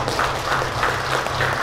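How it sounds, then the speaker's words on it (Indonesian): Audience applause at a ministry launch of a Computer Security Incident Response Team: a dense, continuous wash of clapping from a crowd, loud and steady throughout. "mari kita berikan tepuk tangan yang meriah"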